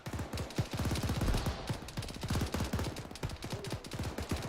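Rapid bursts of gunfire crackle during a military field training exercise, dense strings of sharp reports at moderate distance, continuous and overlapping throughout.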